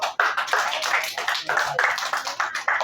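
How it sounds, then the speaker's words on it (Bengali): A classroom of students clapping for a classmate's perfect score on a weekly maths test, a brisk burst of many hands close by, clapping continuously without talk. "হাততালি দাও"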